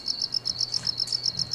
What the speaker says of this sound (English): These fucking crickets, what are they?